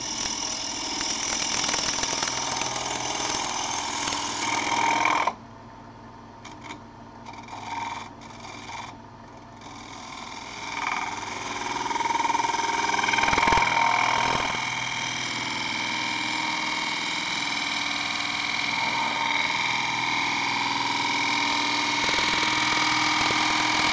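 A wood lathe spins a yarn bowl while a gouge cuts it, giving a loud, steady whirring hum with a rough scraping rasp. It drops briefly, then resumes and runs on without talk.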